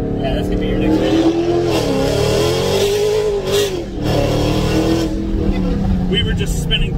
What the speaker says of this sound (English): We were just spinning through all three of those gears.